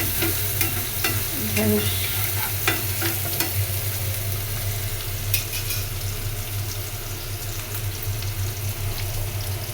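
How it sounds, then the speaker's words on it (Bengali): Onion fries lightly in a pan with a constant close sizzle, while a utensil stirs and taps against the pan now and then; a voice speaks briefly over it. "হালকা পেঁয়াজটা ভেজে"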